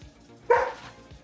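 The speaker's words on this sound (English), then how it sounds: "-3 rep for barking dog." A dog gives a single short, sharp bark, close and fairly loud, over faint background noise.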